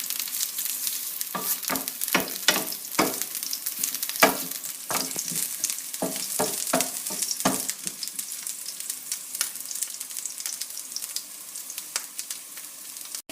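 Onions frying in hot oil make a constant close sizzle, with a burst of sharp scraping stir strokes in the first half and a few more later. No one talks.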